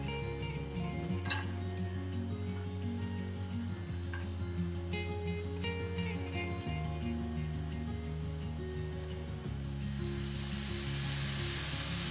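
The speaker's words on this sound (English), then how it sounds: "So a little bit of olive oil, our onions," Onions in olive oil crackle in a pan while cooking beef and vegetable filo pies, a faint, steady sizzle under a low background hum with occasional light utensil clinks, growing brighter at the end.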